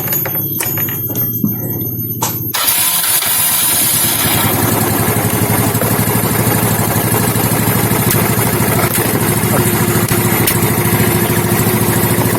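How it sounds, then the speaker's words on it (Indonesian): A motorcycle engine starts during a battery charging check: quiet workshop clicks first, then the engine catches at about two and a half seconds and settles into a steady, rattling idle that runs close and loud. "Kemudian kita nyalakan motornya."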